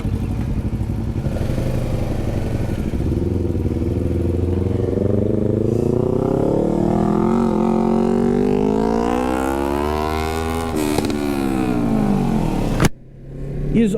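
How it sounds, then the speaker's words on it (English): Loud Yamaha R3 motorcycle on a track, engine revving up through rising pitch, dipping and climbing again before a sharp drop near the end, heard close and continuous with wind roar underneath. "He is also the loudest R3 in the world"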